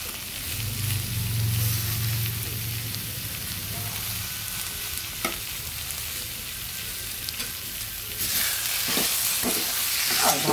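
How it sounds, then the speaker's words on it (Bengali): Mashed bottle gourd bharta with fresh coriander being stirred in a pan, giving a steady low sizzle with scraping strokes of a spatula that grow busier and louder near the end. "ভালোভাবে নেড়ে দিচ্ছি।"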